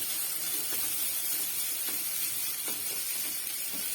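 An ingredient roasts in a pan with a soft, steady sizzle and hiss, broken by faint scattered taps and stirring scrapes, fairly quiet and without voices.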